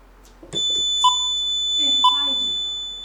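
Two short electronic quiz buzzer beeps sound about a second apart over a steady high tone during a televised quiz show, with brief murmuring voices at the start.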